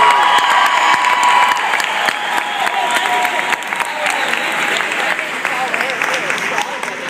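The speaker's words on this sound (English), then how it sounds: "And how about our cheerleaders? Give a round of applause." A crowd applauds and cheers for cheerleaders at a school sports celebration, loud dense clapping with shouts and cheers throughout, easing slightly toward the end.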